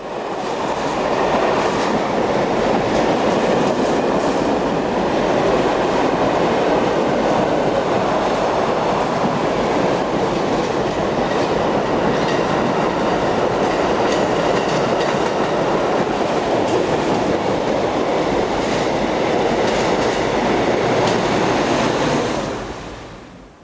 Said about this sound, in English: the 140 is on the rear providing banking assistance to this international freight train heading towards Brooksall tunnel